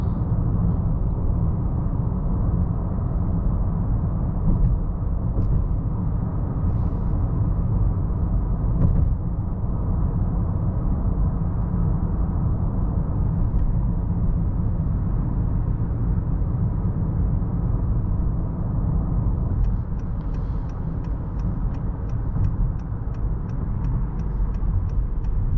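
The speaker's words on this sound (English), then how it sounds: "Smooth upshifts from the transmission." A 2020 Honda Accord 2.0T drives along with a steady low engine and road drone, heard from inside the cabin as the transmission upshifts smoothly, with only subtle changes in the continuous rumble.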